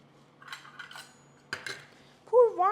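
Clattering knocks of diced potato pieces dropped into a metal pot, two short bursts followed by a ringing clink, close by.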